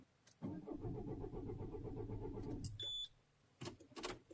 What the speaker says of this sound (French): Allez, tentative de démarrage.